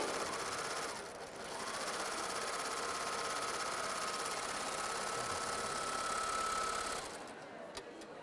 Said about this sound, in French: Je vais piquer de l'organza et je n'aurai que le plaisir de coudre.